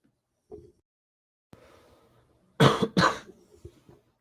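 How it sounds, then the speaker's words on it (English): A man coughs twice in quick succession, loud and close to the microphone, followed by a few softer throat sounds in an otherwise quiet room. "I missed the mute button when I coughed."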